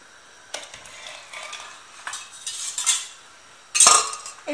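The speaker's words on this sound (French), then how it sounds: "Et je mélange en même temps." Harira soup with tadouira being stirred in a pot, a spoon scraping and clinking against the metal in short irregular strokes, with a brighter clatter near the end.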